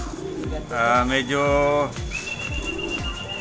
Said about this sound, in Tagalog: Pinapapilian ko ang aking mga kalapati.